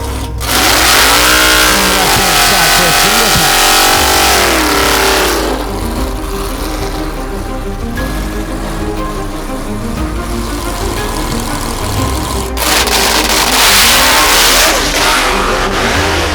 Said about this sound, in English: here comes the Dragpak